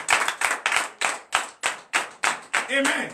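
A church congregation claps in acclamation at a deliverance night service, giving a loud, sharp rhythmic beat of about a dozen unison claps. A voice cries out over the last claps.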